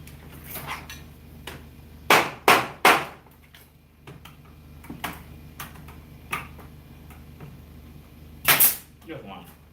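An 18-gauge trim nail gun fires nails with sharp, isolated pneumatic snaps, a quick cluster of three and then a couple of later shots, with softer taps and handling noise in between.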